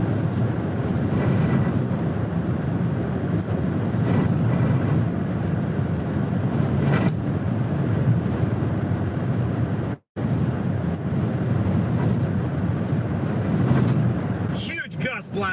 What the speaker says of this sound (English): Huge gust blasting me. Shoving the car to the side.